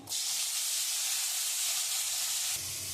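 Dried red chili, cumin, cardamom, cloves, cinnamon and a bay leaf sizzle in oil left over from frying fish for a katla fish head muri ghonto, a loud, bright, steady hiss that drops off sharply near the end.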